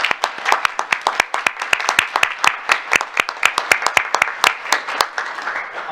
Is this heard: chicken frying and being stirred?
no